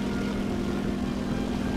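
Propeller aircraft engine from the video game War Thunder, a large cargo bomber plane droning with a loud, steady, continuous hum throughout and no speech over it.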